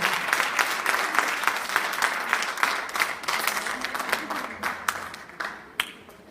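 Sustained audience applause for the doctors at the close of a Chilean-European gynecological health meeting in Calama, dense clapping from a room of people lasting several seconds before thinning out, with no voices over it.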